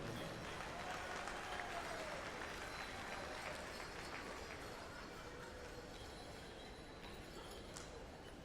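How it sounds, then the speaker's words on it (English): Applause at the 2018 Gathering of Nations powwow for a singing group, a broad, dense wash of distant crowd clapping that holds steady and slowly fades, with faint murmurs mixed in. "Give a round of applause for Crazy Spirit,"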